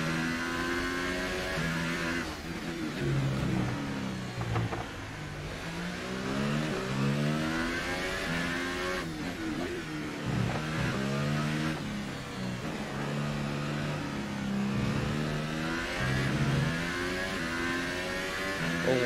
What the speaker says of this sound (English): does this engine sound very weird?